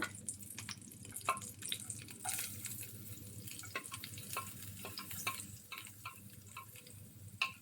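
Chopped onion fries with spluttering mustard seeds for a gooseberry pachadi, a soft continuous sizzle broken by sharp pops and stirring scrapes, close and fairly quiet.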